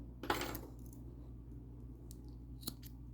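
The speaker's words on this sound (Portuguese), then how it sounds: "puxo o fio e aí eu já posso cortar aqui" Scissors snip through crochet yarn as a finished piece is tied off, giving one close, crisp cut followed by a couple of faint metallic clicks in a quiet room.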